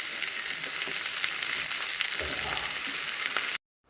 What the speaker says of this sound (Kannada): ಇವಾಗ ಇದ್ರ ಜೊತೆಗೇ ನಾನು ಸ್ವಲ್ಪ 2 ಟೊಮೆಟೊ ಕುಯ್ದು ಹಾಕ್ಕೊತಿದ್ದೀನಿ.